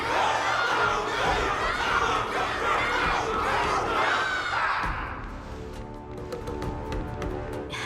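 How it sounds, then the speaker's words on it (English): A large crowd cheers and shouts loudly in a battle arena in the video game Honkai Star Rail, a sustained roar that fades after about five seconds into quieter background sound with faint clicks. "Can't you hear? Everyone's cheering for you, Luca!"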